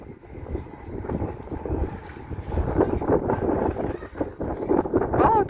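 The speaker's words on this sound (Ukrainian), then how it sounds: "Тут зразу вітер." Steady wind buffets and rumbles across the microphone outdoors beside a busy road in Amsterdam, loud and gusty throughout, with faint voices mixed in.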